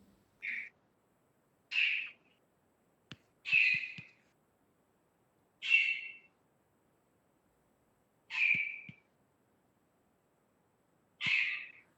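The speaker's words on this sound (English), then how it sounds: "There is a bird" A bird calls outdoors, about seven short clear whistled notes spaced a second or two apart, fairly near and standing alone against silence, with a few faint low knocks in between.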